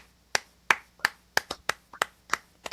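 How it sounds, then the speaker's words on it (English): Sparse, separate hand claps ring out in a quiet room, around ten sharp slaps in an uneven rhythm, close and clear with no talking. "Let's clap it up for Yaxel Lenneberg."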